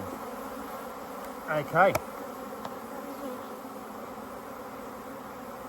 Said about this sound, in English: That's enough bees.